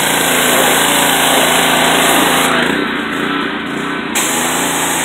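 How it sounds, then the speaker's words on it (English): A pressure washer's engine drones loudly and continuously outdoors while vehicles are washed, its steady high whine dipping slightly partway through with no speech. "got the pressure washer."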